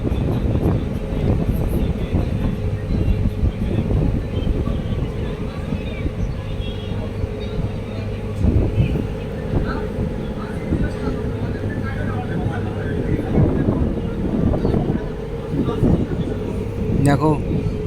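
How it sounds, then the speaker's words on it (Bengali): Strong wind sweeps over the Hooghly river during a ferry crossing from Bauria to Budge Budge. A loud, steady roar of buffeting gusts fills the entire stretch without a break. "প্রচণ্ড গতিবেগে হাওয়া বইছে হুগলি নদীতে।"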